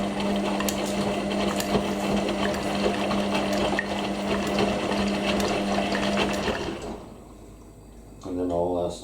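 An Indesit IWC6125 washing machine running a deep final rinse hums and sloshes steadily for several seconds, then drops briefly quieter before a whirring mechanical sound resumes near the end.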